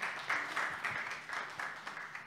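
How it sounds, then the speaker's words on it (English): A church congregation claps during a sermon, in a handful of fairly rhythmic, moderately loud beats that thin out after about two seconds, with no voice over them. "Let's clap for Jesus for that"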